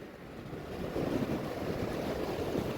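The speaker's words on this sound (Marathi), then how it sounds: "काही लाटा आहेत बघा," Sea waves washing onto a Konkan beach in the morning, a steady broadband surf roar with gentle swells and some wind rumble, continuous and fairly close, with no voices.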